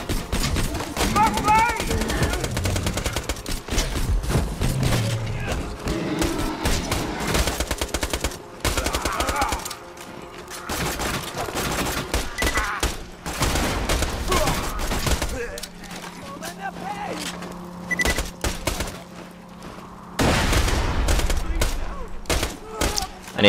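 SMG gunfire in the video game Borderlands 2 comes in repeated rapid bursts with short pauses between them, loud and close, mixed with game effects and people talking.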